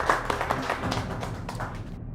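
Audience applause at a staged ceremony, a steady patter of many hands clapping at close range for about two seconds, with a few sharper individual claps standing out before it fades.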